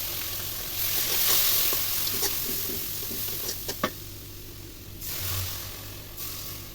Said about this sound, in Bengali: এখন পেঁয়াজ ভাজতেছি ভুনা করার জন্য